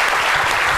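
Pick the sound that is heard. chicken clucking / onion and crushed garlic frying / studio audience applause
studio audience applause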